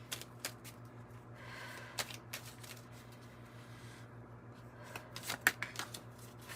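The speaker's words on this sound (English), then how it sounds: "let's pull one of these angel number cards" A deck of angel number cards being shuffled by hand, with repeated papery riffles and sharp flicks of varying loudness over a steady low background hum; no talking.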